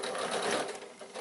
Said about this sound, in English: I'm trying to hold it and sew. So just sew into that side seam,